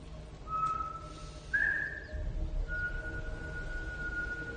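A man whistles a few thin sustained notes, faint and somewhat distant over a low rumbling background, with a pause between phrases.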